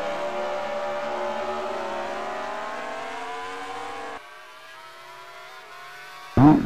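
A Formula racing car passes at the Indianapolis Grand Prix, its high engine whine sweeping down in pitch as it goes by, then dropping to a fainter drone before a sharp burst close by at the end.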